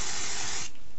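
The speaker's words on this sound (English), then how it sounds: "I take my applique fabric and I spray the back of it" Spray adhesive sprayed from a can onto the back of applique fabric, a single close, loud hiss that stops sharply just before the end.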